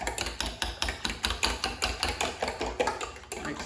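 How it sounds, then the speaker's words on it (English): Eggs and cream being whisked together in a bowl for a quiche, a fast steady run of sharp clinking taps from the whisk against the bowl, close and fairly loud, with no talking. "So we're gonna whisk these things together."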